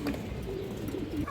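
Pigeons of old-line breeds, kept in a loft, coo in a brief, low, soft warble close by, with no talk over it.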